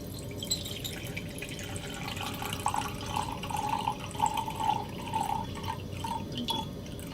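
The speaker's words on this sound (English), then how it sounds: "The first step is to put 100 milliliters of isopropyl alcohol into this jar." Isopropyl alcohol pours into a jar up to a 100 millilitre mark, a steady trickling stream with small drip-like splashes, soft and close, with no talk over it.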